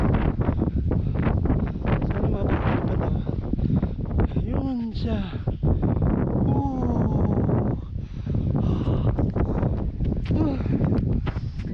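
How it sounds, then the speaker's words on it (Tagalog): Steady low rumbling wind buffets the microphone throughout during a ride, with people talking over it. "Mahangin."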